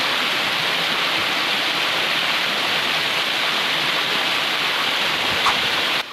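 The Dua Bidadari waterfall at Koto Baru, Sungai Tarab, roars as a steady, broad rush of falling water, close and constant throughout with no voices.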